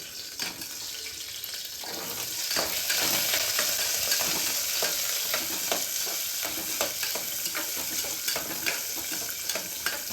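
Onions and whole garlic cloves sautéing in oil for bisi bele bath, a close crackling sizzle that grows louder after a couple of seconds, with repeated stirring scrapes and no talk.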